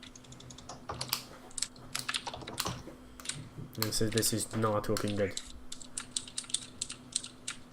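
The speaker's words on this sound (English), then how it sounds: "whoever is like typing right now," Rapid computer keyboard typing clatters in irregular bursts throughout, fairly close and loud, while people talk over it during an online tabletop role-playing session.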